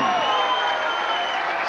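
A darts championship crowd applauds a won leg, a dense, steady wash of clapping and cheering filling the hall, with faint voices mixed in.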